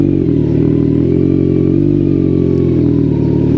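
Kawasaki Z900 motorcycle pulling away in first gear on an off-road surface, a loud, steady close-up engine drone with a slight rise in pitch, heard alone.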